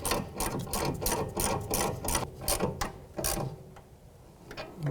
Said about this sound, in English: We're going to put that new nylon lock nut on and snug these up.